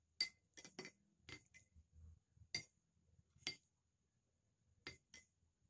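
A spoon stirs dried butterfly pea flower tea in a glass, making a series of sharp, separate clinks against the glass, faint and close, with quiet gaps between the taps.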